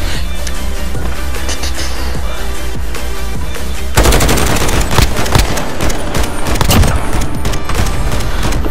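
Gunfire in a Call of Duty Search and Destroy match during a no-scope sniper attempt: dense, loud, close shots in rapid bursts, growing harsher and louder halfway through, with no talk.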